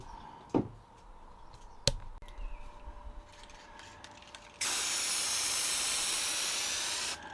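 A spray can or gun lays a first mist coat of paint on a Mini car with a loud, steady hiss lasting about two and a half seconds, preceded by a few clacks and knocks of handling.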